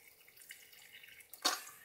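Water pours into a fermentation container holding red cabbage, red onion, beets and garlic: a faint trickle, then a sudden close splashing gush near the end.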